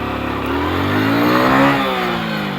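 Motorcycle engine in first gear as the clutch is released, running with a rising, uneven, lurching tone, close and loud, heard alone without talk.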